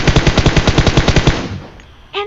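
Automatic gunfire in PUBG Mobile, a loud, close, rapid burst of about a dozen evenly spaced shots that stops abruptly, then a short quiet tail and a brief sharp sound at the end.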